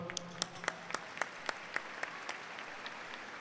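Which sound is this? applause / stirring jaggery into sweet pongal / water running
applause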